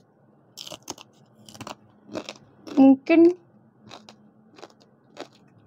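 Hard, extra-crispy fried intestine satay being bitten and chewed up close, a few light crackles building to two loud crunching bites, with someone speaking briefly between them.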